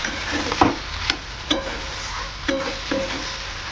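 Banana flower mixture frying in a pan with rice flour, stirred by a utensil that scrapes and taps the pan in several distinct strokes over a soft continuous sizzle, close and without speech.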